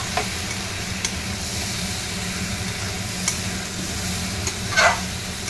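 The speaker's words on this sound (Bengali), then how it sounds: "এবার ভালো করে কষাতে হবে।" Coconut vegetable curry sautéing in a pan, a steady close sizzle and frying hiss with occasional soft scraping clicks of a spoon against the pan.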